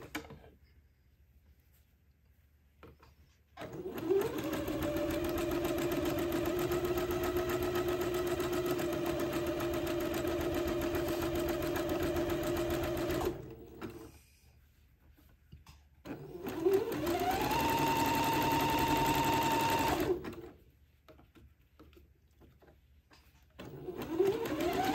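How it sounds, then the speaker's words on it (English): A domestic sewing machine runs zigzag stitches along a raw fabric edge of a baby dress, whirring in two steady bursts of several seconds each with a quiet pause between, close and clear with no talk. "So I set my machine to a zigzag, and I'm just going to zigzag this raw edge to finish it off."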